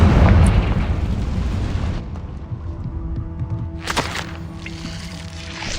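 Confringo fire spell explosion in Hogwarts Legacy, a heavy booming burst at the start that rumbles and fades, followed by a second sharp blast partway through, loud and with no talking.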